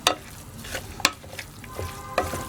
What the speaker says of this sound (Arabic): نخلطو